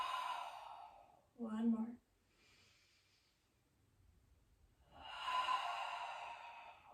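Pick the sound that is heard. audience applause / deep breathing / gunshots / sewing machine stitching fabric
deep breathing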